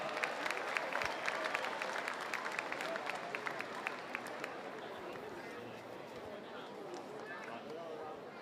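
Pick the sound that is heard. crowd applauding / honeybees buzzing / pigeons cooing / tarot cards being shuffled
crowd applauding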